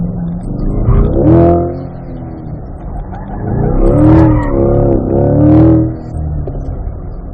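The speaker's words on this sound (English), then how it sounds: "That's a nice downshift." A Chevrolet C8 Corvette on an autocross course revs loud and close through a sequence of rising engine pulls with sharp throttle blips on the downshifts, the pitch climbing and falling in quick bursts.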